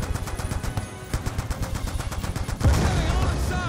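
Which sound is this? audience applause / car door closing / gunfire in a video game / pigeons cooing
gunfire in a video game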